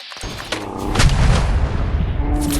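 Burst of loud gunfire from an AutoMag pistol in Fallout 4, several heavy booming shots fired at a slow, spaced pace, each with a strong low thump and ringing tail and no talk over it.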